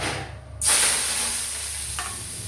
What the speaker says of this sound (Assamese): এতিয়া চাউলখিনিও ভাজি ল'লোঁ।